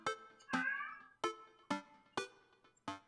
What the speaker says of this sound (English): There's a cat howling at the moon.